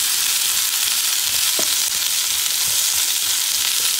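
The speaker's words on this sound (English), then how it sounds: "Got some red potato home fries we're gonna make. Let's get these cooking." Red potato home fries fry steadily in bacon grease in a Field Company No.10 cast iron skillet, a dense, even sizzle that holds constant throughout with no talking.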